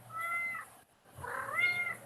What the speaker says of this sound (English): Oh, great. She's meowing.